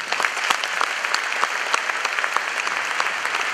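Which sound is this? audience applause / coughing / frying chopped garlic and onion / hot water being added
audience applause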